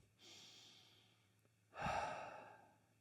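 A seated person takes a slow breath with hands resting on either side of the neck, a soft airy inhale followed by a louder, longer exhale, close and quiet with no talking.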